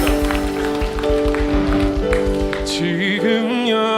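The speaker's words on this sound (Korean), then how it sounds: "진실하신 주님 앞에 우리 감사와 찬양과 영광의 박수 함께 올려드립시다" Worship congregation at a Sunday young-adults service clapping a steady beat along with loud band music and singing, the claps regular and close through most of the passage before the rhythm drops out.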